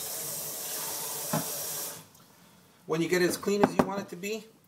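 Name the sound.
tap water running while rinsing rice in a bowl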